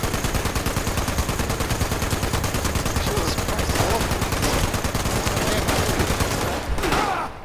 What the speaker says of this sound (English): That needs to be a 10mm machine gun